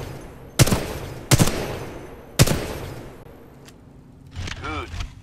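Weapon fire in the video game Titanfall 2, with three sharp, loud single shots spaced about a second apart, then a quieter mechanical whir and clatter near the end.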